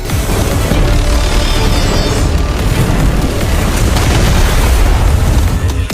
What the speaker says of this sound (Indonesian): ledakan yang terjadi